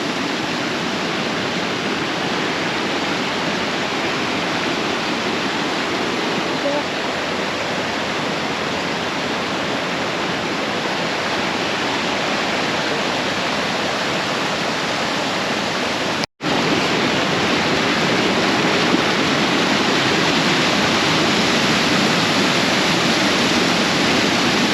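A waterfall in Jos, Nigeria pours in a steady, loud roar of rushing water that fills the whole stretch, unbroken except for one split-second dropout near the end.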